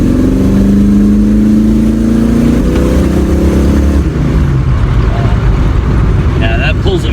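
A custom 1934 Ford Model 40 accelerates at full throttle, loud engine roar rising in pitch then shifting as it pulls away, with wind and road rumble close to the microphone.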